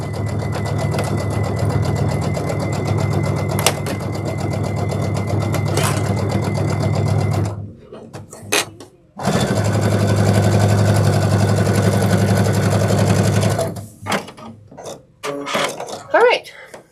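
A sewing machine top stitches a Sunsetridge backpack at a long stitch length, running in two long steady bursts with brief pauses and short starts between, close and loud.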